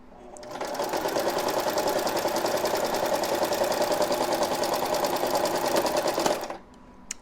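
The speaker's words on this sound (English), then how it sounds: "I'm on a straight stitch, and I'm going to just use a regular stitch, and I am going to back stitch this" A sewing machine runs a straight back stitch to join fabric ends, a steady rapid mechanical whir sustained at even loudness for about six seconds before stopping abruptly, close and alone.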